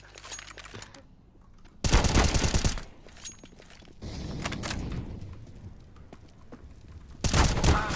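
Counter-Strike gunfire rattles out in two loud, rapid bursts of automatic shots, separated by quieter in-game ambience and movement.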